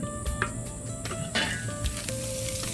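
Swordfish, shrimp, tuna and pineapple kabobs sizzling on a hot grill grate, a continuous crackling hiss with small pops and light clicks, close up and without talk.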